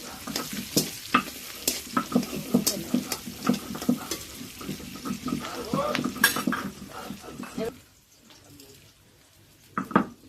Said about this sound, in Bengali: মশলাটা হালকা ভেজে নেব, সাথে দিচ্ছি পেঁয়াজ।